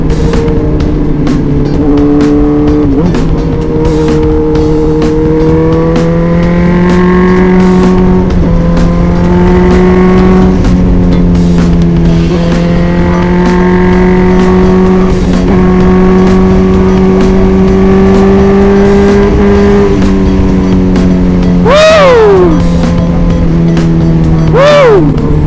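Loud, sustained engine drone from a Kawasaki Ninja H2 sports bike, holding a steady pitch with a few surges and one sharp rev near the end, continuous throughout with no talking.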